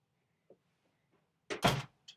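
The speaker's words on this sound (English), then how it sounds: "hey Colin, can you shut my door for me?" A bedroom door swings shut with a single close, solid thud after a near-silent pause, followed by a faint after-knock.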